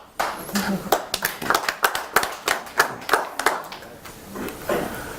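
Audience applause at a library panel, a dense, fairly loud patter of many hands clapping that swells and then fades, with voices audible beneath it.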